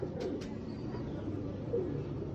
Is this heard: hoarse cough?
no